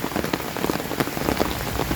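Torrential rain from a storm drums hard and close on surfaces, a dense, unbroken roar of drops with scattered louder splashes throughout.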